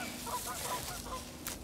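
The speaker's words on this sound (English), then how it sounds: "There's geese?" Geese honk in the distance outdoors during a hunting trip, a few faint nasal calls rising over steady background wind noise.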